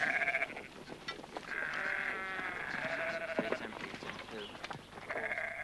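Sheep bleat repeatedly in a flock on a family farm, several overlapping calls near and clear, some long and wavering, over a steady outdoor background.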